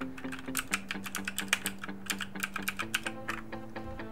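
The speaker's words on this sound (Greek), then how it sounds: "πρώτη φορά ακουμπάω μηχανικό πληκτρολόγιο." A Motospeed CK666 mechanical keyboard being typed on in a quick run of sharp, closely miked key clicks, with a low sustained tone humming softly in the background.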